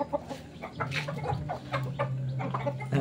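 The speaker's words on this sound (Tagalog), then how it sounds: "Ito po yung ating bantam." Bantam chickens cluck at morning feeding time, a run of close, fairly loud clucks and short calls from several birds in quick irregular succession, with no talking.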